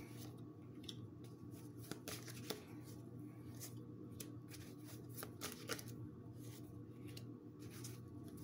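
Tarot cards are shuffled, drawn and laid down in a quiet room, a run of soft riffles, flicks and sharp taps close by, irregular but steady throughout with a low hum underneath.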